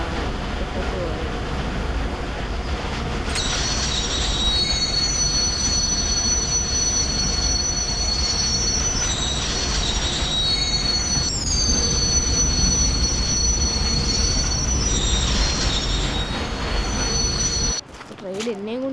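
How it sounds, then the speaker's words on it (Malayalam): A passing train grinds by with loud, sustained metal-on-rail wheel squeal, the shrill whine rising and shifting over a steady heavy rumble for most of the stretch, then cutting off abruptly near the end. "ട്രെയിൻ എന്നെയും കൊണ്ട് പോയാണ്."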